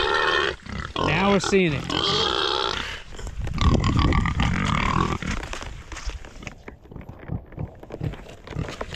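Pig grunting in a muddy horse barn after rain, a few deep snorting grunts near the start followed by someone talking and footsteps squelching in mud.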